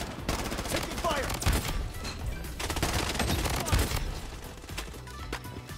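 Rapid bursts of gunfire in the shooter game Blood Strike, loud and dense throughout, with overlapping volleys and a few heavier booms, while players talk over the shooting.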